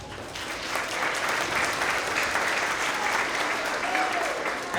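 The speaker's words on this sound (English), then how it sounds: "let's give a round of applause" Sustained applause from an audience at a kindergarten and transitional-kindergarten school award assembly, a steady dense wash of clapping held at an even level throughout with a soft murmur of crowd beneath.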